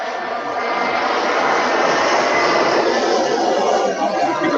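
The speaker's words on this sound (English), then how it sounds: "Airplanes going over." Airplanes passing overhead near an airport, a loud, steady broadband jet roar that holds nearly unchanged through the whole stretch, with no talk.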